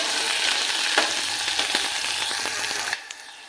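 Cumin and onion fry in a pan for a chicken dish with cashews and potatoes, giving a dense, steady sizzle with light stirring clicks that cuts off abruptly near the end.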